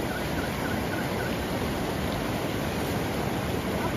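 Fresh glacier water rushing in a stream at Gulmarg, Kashmir, a steady broadband roar that stays loud and unbroken throughout.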